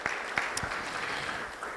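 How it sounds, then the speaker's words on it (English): A crowd at an alpaca fleece show reveal and social applauds briefly, a soft, distant patter of many hands with a couple of sharper claps. "give all yourselves a big round of applause"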